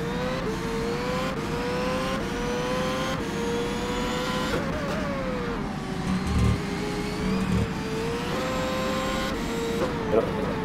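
Formula 1 race cars at the Canadian Grand Prix screaming past one after another, high-pitched engine notes rising and falling with each car, loud and fairly close, with faint crowd noise beneath.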